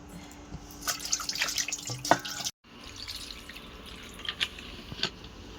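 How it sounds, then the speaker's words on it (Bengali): Tap water runs and splashes into a basin during washing, with close dripping, clattering splashes and a brief gap before the flow resumes. "কলের জল দিয়ে গামলায় ফুলিয়ে ধুচ্ছে"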